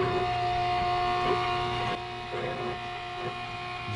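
An oil change pump draws dirty oil from a boat generator through the dipstick tube, giving a steady electric hum and whine with faint gurgles and slurps as the sump nears empty.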